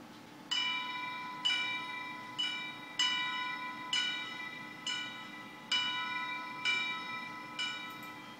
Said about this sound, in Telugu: ఇది ఆ గుడి గంటల సౌండ్ లాగా ఇచ్చారు